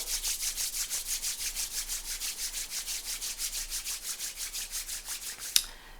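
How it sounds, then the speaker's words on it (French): Two palms rub briskly together in a steady back-and-forth rhythm, a close, soft swishing friction repeated many times during a Qi Gong exercise, ending with a small tap. "À nouveau, on frotte les mains."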